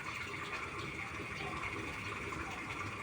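Steady rushing of river water pouring through a channel into a concrete canal beside a tilapia pond, a continuous close wash of flow with no voices.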